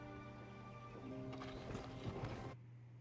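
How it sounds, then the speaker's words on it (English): Horse hooves clip-clop in a scene from the TV show Yellowstone, soft steady steps under a low hum that cut off abruptly near the end. "Look at that horse."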